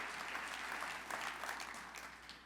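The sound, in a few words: audience applause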